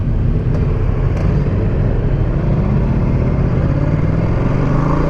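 Several BMW GS motorcycles ride past on an open road, a steady, loud engine roar that holds across the whole stretch with continuous traffic rumble and no voices.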